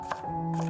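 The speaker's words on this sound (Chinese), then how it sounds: "给它剁成蒜末" Kitchen knife mincing garlic cloves on a cutting board, one or two quick close chops in a quiet room.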